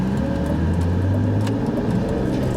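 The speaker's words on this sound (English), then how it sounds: "when the engine RPMs drop down kind of low and you're powering up through a gear, I can hear the door jamb shake a little bit" A BMW 328i E46 engine pulls through a gear from low revs, a steady droning hum with a faint rattle from the door jamb shaking, heard from inside the car without talk.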